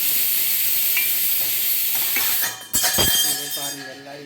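Peeled garlic and onions sautéing in a pan for a quick vegetarian lunch, a moderate sizzle that is interrupted by a sharp clatter of utensils near the end, with no talk.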